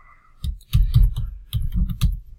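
Computer keyboard keys are tapped in quick bursts of clicks, close and fairly quiet, with brief pauses between clusters of keystrokes.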